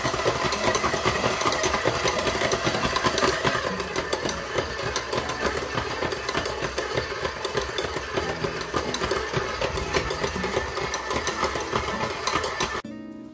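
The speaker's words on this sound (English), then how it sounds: "It was in the mixer for about around 7 minutes or so on speed number 2." A stand mixer runs on speed 2 kneading pizza dough, a steady loud motor drone with a rhythmic mechanical rattle that cuts off abruptly near the end.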